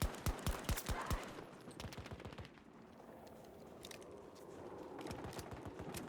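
Rapid bursts of automatic gunfire from Battlefield 2042 played on mobile via cloud gaming, sharp close shots in quick volleys at first, then fading into a low rumbling crackle of distant battle.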